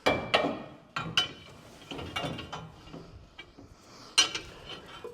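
Metallic ratcheting clicks and clanks come from a wrench turning a nut on an engine being installed in a garage, in irregular short bursts with a sharp clank near the end.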